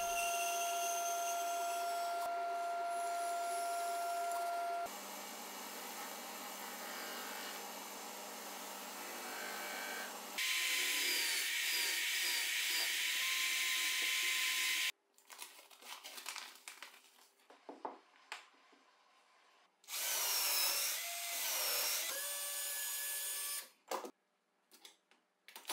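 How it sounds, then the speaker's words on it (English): A power saw cuts the wooden base of a drill press, lathe and router table tool station, with long, loud, sustained whining passes broken by short pauses and bursts of quieter handling. "Now I'll cut the base of the station"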